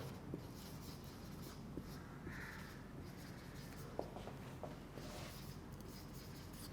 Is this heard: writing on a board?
yes